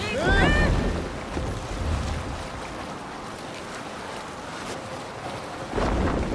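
Sailing ship on open water in Assassin's Creed Valhalla, with steady wind and rushing waves around the hull, louder swells at the start and end, and voices shouting over the water.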